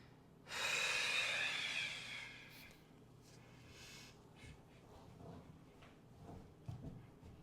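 Deep, forceful breath in a push-up position during a core-focused workout, one loud rushing exhale up close, then quieter breathing over a soft background.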